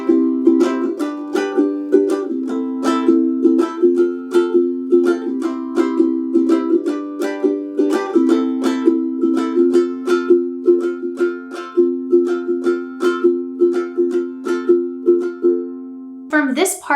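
Ukulele strums chords steadily through a gentle intro, a regular rhythmic pattern of bright plucked strums, close and clear, with a brief different sound at the very end.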